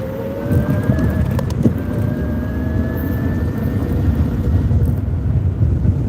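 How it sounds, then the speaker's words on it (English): A sports car engine revs with a steady, loud, close drone and a faint whine that climbs slowly in pitch, holding for about six seconds with no voices over it. "Actually sounds like a Lamborghini though,"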